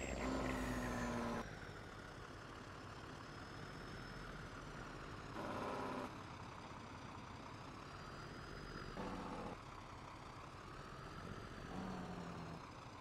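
A truck engine in a farm simulation video game hums steadily at idle, with periodic beep-like tones repeating every few seconds over the low drone and no one talking.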